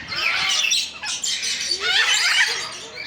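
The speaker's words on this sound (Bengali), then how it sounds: "এখন দেখুন কতগুলো পাখি একসঙ্গে সব ডাকছে" A flock of lory parrots at New Town zoo squawks all at once, shrill overlapping calls piling into a loud, continuous chorus.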